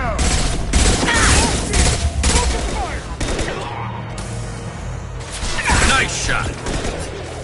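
Gunfire in the video game Mass Effect 2, loud rapid bursts of automatic shots and mechanical clatter in a busy firefight, with a voice talking over part of it.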